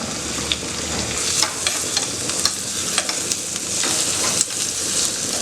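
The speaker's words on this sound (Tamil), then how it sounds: "இப்போ 1 வெங்காயம் அளவுக்கு நம்ம இந்த எண்ணெய்க்குள்ளே போட்டுடலாம்." Sliced onion frying in a couple of spoons of hot coconut oil gives a close, steady sizzle, with scattered crackles and light stirring clicks from the pan.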